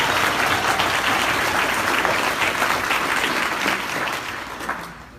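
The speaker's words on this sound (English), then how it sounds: "that applause needs to be bigger" A large political rally audience bursts into sustained, dense applause that holds strong and then tapers off toward the end, loud and enveloping.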